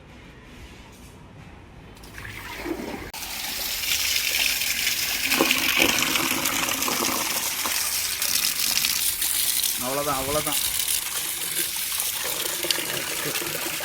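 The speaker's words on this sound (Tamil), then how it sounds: "இந்த தண்ணியை ஊற்றிட்டு வேறு தண்ணி தான் மாற்றணும்" Water from a home fish tank is forcefully poured out in a rushing, gushing stream that swells after a quiet start and carries on steadily nearby, with a brief spoken word near the end.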